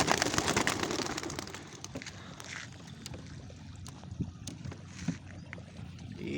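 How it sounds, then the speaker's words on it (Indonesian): Young racing pigeons released over rice fields give a flurry of wingbeats and scattered bird calls, busiest at the start and then thinning into sporadic flutters outdoors. "inilah dia burung-burung kita, burung-burung muda ya"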